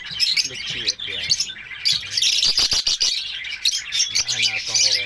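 African lovebirds at a breeding setup chirping and squawking continuously, dense shrill calls close by and loud, overlapping throughout with no pause.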